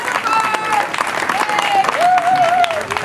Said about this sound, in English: So let's go ahead and give those two a round of applause as well.